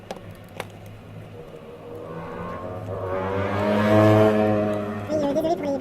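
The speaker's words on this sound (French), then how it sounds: "désolé pour les bruits de moteur, c'est parce qu'en fait ma fenêtre est ouverte" Car engine noise drifting in through an open window, a low steady rumble that swells into a louder passing rev near the middle before easing off, with faint indistinct voices underneath.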